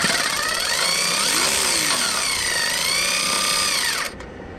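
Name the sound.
power tool with 14mm socket loosening exhaust manifold nuts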